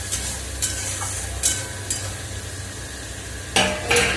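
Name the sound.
spices being stir-fried in a pan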